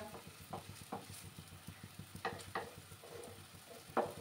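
Atta dough snack fries in hot, splattering oil, giving a steady close sizzle with scattered crackles and pops throughout.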